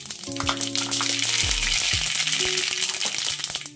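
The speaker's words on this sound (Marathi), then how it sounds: "यामध्ये सर्वप्रथम हिंग घालून घेतला आणि मोहरीची फोडणी दिली." Loud, close sizzling and popping of mustard seeds and asafoetida in hot oil for lemon pickle, continuous throughout, with tonal background music and clinking stir sounds.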